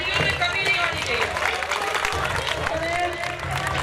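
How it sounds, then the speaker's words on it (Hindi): Applause from a school crowd at a Swami Vivekananda birth anniversary celebration, dense clapping mixed with crowd babble and a voice speaking over it throughout. "तालियों में कमी नहीं होनी चाहिए।"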